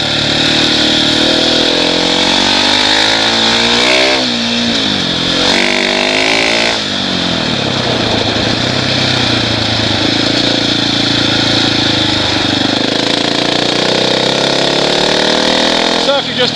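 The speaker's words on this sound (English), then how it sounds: "Just out cutting, I'm in 3rd gear," A 2017 Husqvarna 701 Enduro motorcycle is ridden in third gear on soft, loose dirt: a loud, continuous engine drone with pitch that rises and dips, heavy wind roar, and a rider talking over it.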